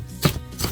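Two quick knife chops strike a cutting board while preparing asparagus and wood ear mushroom, close and fairly loud, with a soft hum between them.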